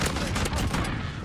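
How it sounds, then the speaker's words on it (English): An AA-12 automatic shotgun fires in a Modern Warfare video game, a dense continuous barrage of loud booming blasts filling the whole brief moment. "it is a fucking automatic shotgun"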